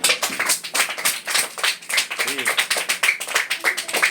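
Schoolchildren in a classroom clap their hands in quick, rhythmic bursts, each clap sharp and close. The claps repeat steadily throughout, with young voices mixed in.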